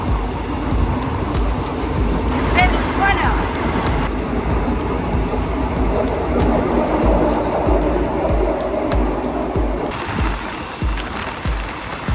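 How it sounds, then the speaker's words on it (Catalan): Sleeper train bound for Chiang Mai, Thailand, rumbling steadily throughout with a dense low roar and faint clickety-clack from the rails, heard from inside the carriage at night. "I estem al tren anant a Chiang Mai"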